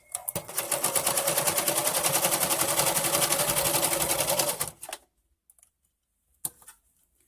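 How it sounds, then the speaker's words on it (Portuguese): Singer sewing machine stitching a zigzag pattern at a steady rapid mechanical rhythm, loud and close, running alone for nearly five seconds before stopping, followed by a few faint clicks and handling sounds. "É um ponto zigue-zague, que a gente fez na posição 3 do tamanho do zigue-zague e com o ponto de tamanho número 2"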